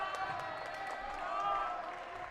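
A home crowd at a boys high school basketball game against Chelmsford roars and jeers in a steady, dense wash of voices, with some scattered clapping rising and falling in the gym.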